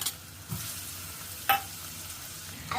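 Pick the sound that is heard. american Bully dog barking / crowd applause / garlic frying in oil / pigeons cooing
garlic frying in oil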